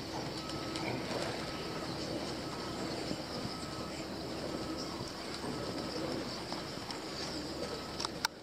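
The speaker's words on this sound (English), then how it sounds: "There's that pigeon, he's still flapping up roof." Faint cooing from a feral pigeon inside a large warehouse, soft and distant against a steady background hum, with a few small knocks.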